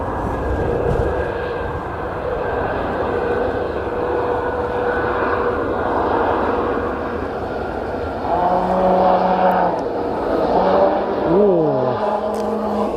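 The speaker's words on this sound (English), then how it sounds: "Some interesting noises from the Ryanair there." A Ryanair airliner rolls down the runway on takeoff at Edinburgh Airport, a steady distant engine roar with rising and falling whines toward the end, heard from afar.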